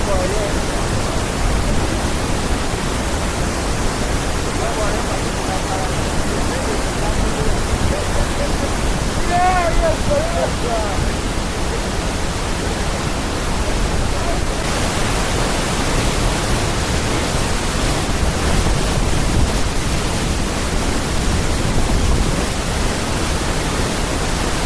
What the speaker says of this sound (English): We actually got to the bottom of the waterfall.